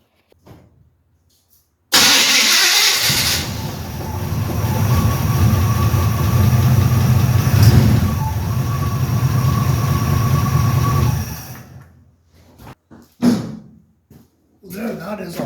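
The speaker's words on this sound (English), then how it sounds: "we'll crank her over, see what it's like" A carbureted car engine, newly fitted with an electronic fuel pump, cranks briefly and then fires and settles into a steady, loud idle for several seconds before cutting off, with a few quiet knocks afterward.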